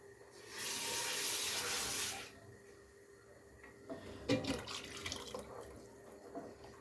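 Water runs steadily for about two seconds as it is poured into a pot of tarhana soup with minced meat, then gives way to soft clinks and stirring sounds in a quiet kitchen.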